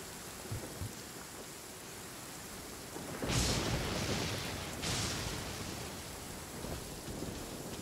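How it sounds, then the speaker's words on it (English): Thunderstorm in the video game Genshin Impact: steady rain hiss with two loud thunder crashes rolling through the middle, each swelling then fading back into the rain. "There's lightning in this game too."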